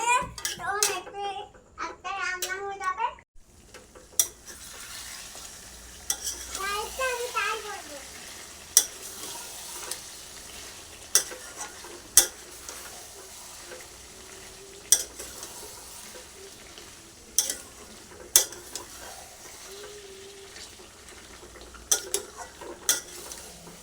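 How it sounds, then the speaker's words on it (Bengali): Curry being stir-fried in a pan, a steady low sizzle under repeated sharp scrapes and clinks of a spatula against the metal, with a voice chattering briefly near the start. "এখন এই যে কষা হচ্ছে"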